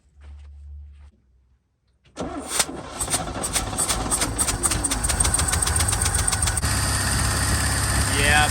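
A Chevy 292 inline-six in a restored 1971 Chevrolet cranks, catches and settles into a loud, steady idle with its exhaust reconnected, running continuously after a short quiet start.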